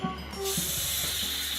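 A can of cooking spray released in one short, loud hiss that starts abruptly and holds steady for about a second, close by.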